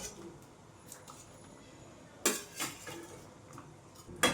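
Cauliflower florets added to a pot of half-boiled potatoes for a light fish curry bring a few soft clatters and knocks of utensils against the pot, close and fairly quiet.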